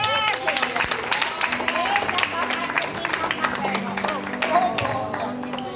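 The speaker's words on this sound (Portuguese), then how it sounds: "Aplauda Jesus." A church congregation applauds during a service, brisk crowd clapping mixed with voices calling out and chattering over it, fairly close and sustained.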